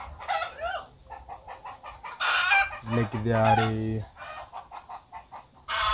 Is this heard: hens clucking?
yes